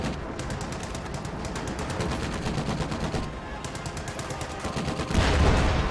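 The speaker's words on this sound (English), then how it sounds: "Oh, nasty shot on those Panzer Fusiliers by that Sherman." In a World War II strategy video game, a Sherman tank fires on Panzer Fusilier infantry amid a dense, continuous din of rapid machine-gun fire and battle noise that swells loudly near the end.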